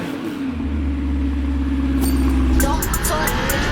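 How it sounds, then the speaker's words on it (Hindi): A Lamborghini Temerario twin-turbo V8 sports car idles with a deep, steady exhaust rumble, then a brief rise near the end as the engine is blipped, close and loud throughout. "लेकिन पहले एग्जॉस्ट नोट सुनिए"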